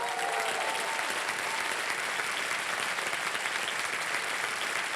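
A studio audience at a game show applauds the contestants with steady, dense clapping that stays loud and even throughout, with no voices standing out.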